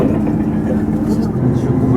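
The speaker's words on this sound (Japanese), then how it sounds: "南風10号が雪の中通過していきました。" Nanpu No. 10 limited express passing through snow at Tosa-Iwahara Station, a steady low rumble heard from a train halted at the station.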